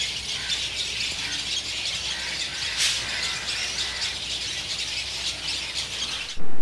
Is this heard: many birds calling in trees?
yes